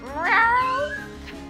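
A voice imitates a cat, a single drawn-out meow with a rising then falling pitch, close and clear.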